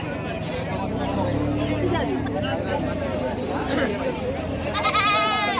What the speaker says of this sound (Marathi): काय किंमत आहे काका बकरीची किंमत किती म्हटलं नऊ हजार गाभण आहे का